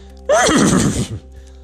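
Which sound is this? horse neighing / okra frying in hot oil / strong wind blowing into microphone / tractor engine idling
horse neighing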